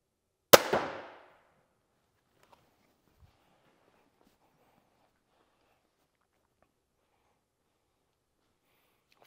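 A TenPoint Siege 425 crossbow fires once at 20 yards, a single sharp, loud snap with a brief decaying twang, followed by near silence with only faint small handling noises.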